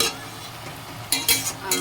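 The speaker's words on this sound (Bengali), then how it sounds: "আর একটু ভাজবো সামান্য একটু ভাজবো" Jute leaves fry in a pan with a soft, steady sizzle, broken near the end by a few short scraping stirs of a utensil against the pan.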